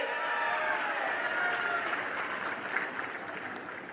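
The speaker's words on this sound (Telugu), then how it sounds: "అన్యాయం అంటే గట్టిగా చప్పట్లు కూడా చెప్పండి" A crowd at a political rally claps steadily and loudly throughout, dense sustained applause with a faint murmur of voices mixed in.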